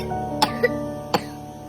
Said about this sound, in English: Good coughing.